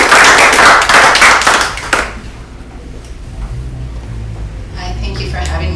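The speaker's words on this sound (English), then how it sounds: "Please give a big round of applause for author Ruth D." A small audience claps for author Ruth D. Fisher at a cannabis talk, loud close handclaps for about two seconds that stop abruptly, then quiet room sound and faint talk.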